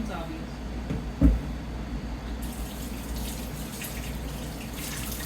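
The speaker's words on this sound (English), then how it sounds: "That way you always hear that I'm literally washing my hands." Tap water runs into a kitchen sink while hands are washed, a low steady hiss with one brief knock early on, fairly quiet throughout.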